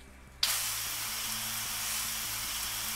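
A pressure-washer nozzle at a car wash in Gas Station Simulator suddenly starts spraying, a loud, steady hiss of water that continues without a break after a brief quiet moment.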